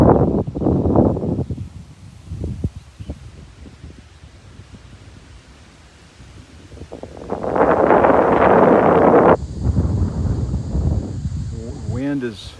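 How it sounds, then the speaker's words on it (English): Steady wind blows across a hilltop at roughly 3,200 feet on a New Hampshire trail, a broad rushing roar that swells loud midway and stays strong, with a person's voice talking over it early on. "The wind is blowing pretty steadily, as you can probably hear."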